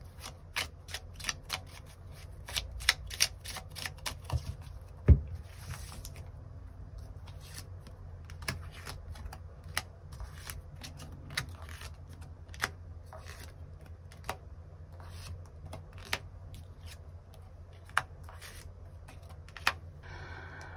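Tarot cards shuffled and drawn by hand, a quick riffling flutter of cards followed by scattered sharp taps and slides as cards are laid down, close and quiet with no talking.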